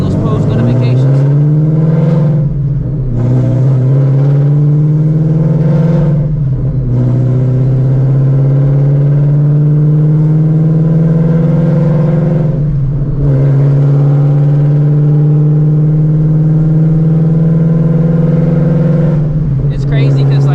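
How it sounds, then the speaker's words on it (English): An 850 hp Shelby GT350 with a loud, barely muffled exhaust sits at a car meet, holding a heavy droning idle throughout and revving up and down several times in sweeping rises and falls. "this is definitely not a cruiser car because of the exhaust, or I should say lack of exhaust"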